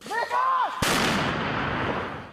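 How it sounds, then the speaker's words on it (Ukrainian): A single sharp blast from mortar fire near Bakhmut, a sudden loud crack followed by a long fading roar, after a brief wavering tone at the start. "замість музики у бійців поблизу Бахмута звуки вибухів"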